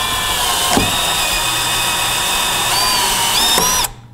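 Power drill gun whining steadily while driving a part into a drilled hole on a Chevrolet C8 Stingray, close and loud, pitch rising briefly before it abruptly stops.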